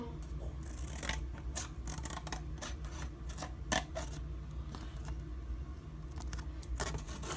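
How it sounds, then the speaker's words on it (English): Scissors cutting out paper for a homemade solar eclipse pinhole viewing box, a close, steady run of snipping and crisp paper rustles with no talk. "So then you're just going to cut that out."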